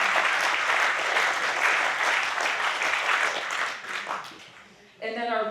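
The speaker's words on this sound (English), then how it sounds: "that's worth clapping for sure" Members at a food co-op's annual meeting clap together, a dense, lively round of applause that fades toward the end before a voice briefly speaks.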